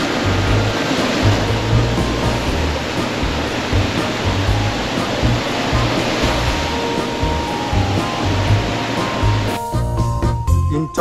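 Ocean surf rolling onto Long Beach in Phu Quoc, Vietnam, beside a seaside resort, heard up close as a loud, continuous, washing roar of breaking waves, with no talking.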